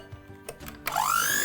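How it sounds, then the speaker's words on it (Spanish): Electric hand mixer starting up to cream butter and sugar for gingerbread cookies, a few clicks and knocks then a rising whine that settles into a steady motor hum. "Voy a utilizar una batidora de mano"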